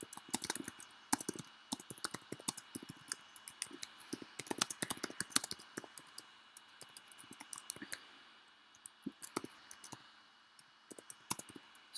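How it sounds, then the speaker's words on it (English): Someone types fast on a computer keyboard while playing a game, a dense, irregular run of quiet, close key clicks with a brief lull near the end. "Sorry, I'm like really typing fast."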